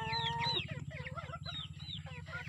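Broiler chickens in a cramped backyard pen: a steady rapid low clucking chorus with higher squawks and chirps over it, close and continuous, with no voices.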